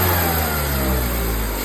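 A 2014 Ford Focus engine with a fault, revved steadily with a rough, droning roar and a harsh noise on top, loud and close for the whole stretch, with no talking.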